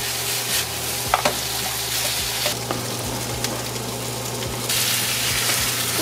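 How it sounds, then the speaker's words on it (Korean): Sausages and ketchup being stir-fried in a pan, giving a steady close sizzle with scraping stir strokes and clinks of a utensil, no voices over it. "소세지 케찹 볶음."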